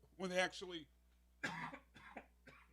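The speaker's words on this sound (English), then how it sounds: "He's just been coughing all show." A few sharp coughs burst out in quick succession, close and fairly loud, separated by short pauses.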